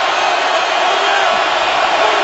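A roaring stadium crowd at an NFL game between the Seattle Seahawks and Oakland Raiders in 2014, loud and continuous, a dense wash of cheering with no breaks.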